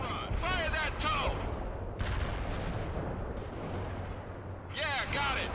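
TOW missile launch and gunfire in the World in Conflict strategy game, continuous battle rumble with bursts of shots, while voices speak over the noise at the start and end.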